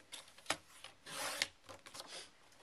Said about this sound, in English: and we're going to trim this out right here.